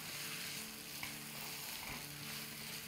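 Meat and vegetables are stir-fried in a pan for chili mutton, with a steady, even sizzle and a faint spoon scrape partway through. No voices are heard.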